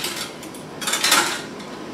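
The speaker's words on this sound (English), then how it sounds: "we're just putting these lids on each jar" Metal canning lids are set onto glass jars in a kitchen, producing light clinks and scraping taps close by, with one brief cluster of louder metallic contact.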